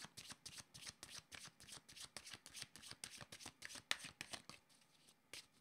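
Tarot cards being shuffled by hand close up, a steady run of quick crisp riffling slaps and flutters repeating about five times a second, with no voices.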